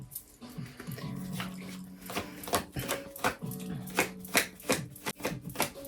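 A dog whimpers and whines in a room, with a few drawn-out tonal whines mixed among irregular clicking and tapping noises close by.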